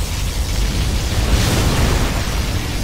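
A sustained, roaring particle cannon blast from the Command & Conquer Generals strategy game, loud and broadband, holding steady for about three seconds with no speech over it.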